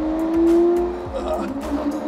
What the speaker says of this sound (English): It's a V12, yeah.